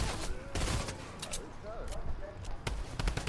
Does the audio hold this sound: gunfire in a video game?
yes